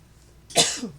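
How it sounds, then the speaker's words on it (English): A single short, harsh cough from sanding dust bursts out close by after a brief quiet moment. "I'm going to have to cough because of that dust"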